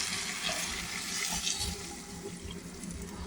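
Water pours steadily into a curry pot of Japanese curry on the stove, a continuous close splashing rush with faint sizzling underneath, unbroken for the whole few seconds.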